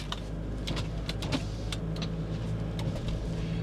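Inside a Hyundai Terracan, the electric power window motor whirs steadily over the low hum of the running engine, with scattered small clicks and rattles close by.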